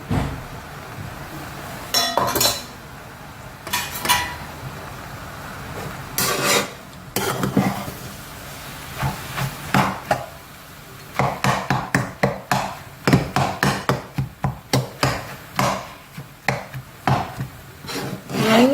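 A metal dosa spatula stirs and chops chapati kothu roti in a pan, with close scraping rasps and quick clinking taps that speed up into a fast, steady chopping rhythm toward the end.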